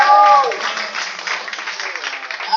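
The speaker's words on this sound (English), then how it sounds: "Have a round of applause for him." Audience applause from a crowd at a 1987 Timothy Leary talk in a Morgantown, West Virginia club, a dense steady wash of clapping that follows a brief voice at the start and holds loud for a couple of seconds.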